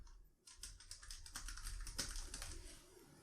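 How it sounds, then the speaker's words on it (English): Quick typing on a computer keyboard as a username and password are entered, a soft, close run of rapid key taps with a brief pause near the start and no talk. "type in my username and password"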